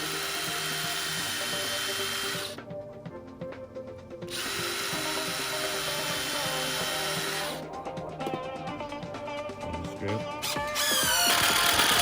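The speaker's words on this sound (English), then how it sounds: "this is where I got a pre-drill" A power drill pre-drills holes in wood for a DIY staircase, whining in two sustained bursts with a short pause between, close and loud, ending in a rising rev.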